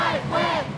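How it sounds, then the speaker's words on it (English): Alumni cheerleaders deliver one last group cheer inside an old school fieldhouse gym, a loud, short burst of many voices shouting together in an echoing room. "The alumni cheerleaders even gave one final cheer across the generations."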